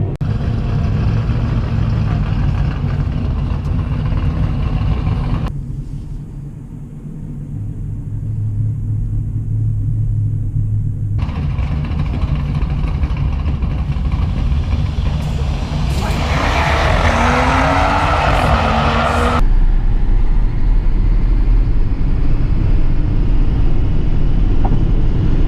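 BMW 3 Series and a long-range Tesla Model X Raven at a quarter-mile drag strip, a loud continuous engine rumble and roar with one brief dip, a passing high whine and a later surge of louder noise.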